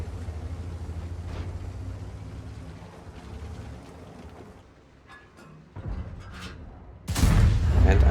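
Tank gun firing in World of Tanks, a single heavy boom bursting in near the end after a stretch of low engine rumble and scattered mechanical clanks.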